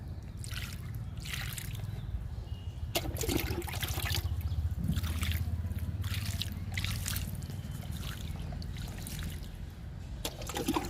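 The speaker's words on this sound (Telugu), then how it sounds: "మందార మొక్కలకి వాటర్ ఇస్తున్నా." Water poured onto hibiscus plants in pots on a terrace garden: a continuous nearby trickle and splash of flowing water with a few brief louder gushes, with no talking.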